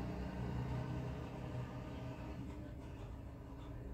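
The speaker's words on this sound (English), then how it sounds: "loud-ass truck. What is that over there? Ah, that school bus." A school bus engine rumbles outside as it passes, a steady low, moderately loud drone with no talking.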